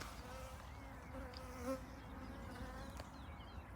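Honey bees buzz steadily around hive colonies during springtime inspection, a dense continuous drone with no talking over it.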